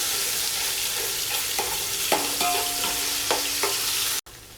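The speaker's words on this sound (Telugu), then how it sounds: "గార్లిక్ పేస్ట్ అంతా కూడా పచ్చివాసన పోయేంత వరకు ఫ్రై చేసుకోవాలండి" Garlic ginger paste fries in a pan with a steady, loud sizzle, broken by a few stirring scrapes before it cuts off abruptly near the end; no one speaks.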